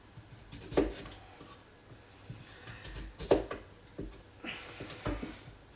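Celery being chopped on a board in a home kitchen while mince and onion cook, a few sharp, spaced knife knocks against the board amid soft clatter.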